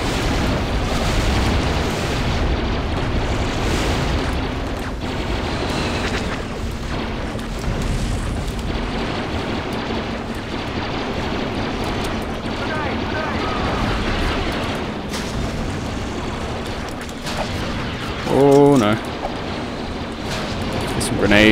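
Muffled booming blasts and rumbling battle noise from grenades going off in the Star Wars Battlefront video game, continuous and dense, with a sharper burst near the end under a talking voice.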